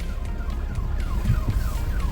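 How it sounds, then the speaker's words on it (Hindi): An ambulance siren wails in a repeating falling tone through traffic on a mountain pass road, moderately loud over a low engine rumble; no one speaks. "उधर से एम्बुलेंस आ रही है"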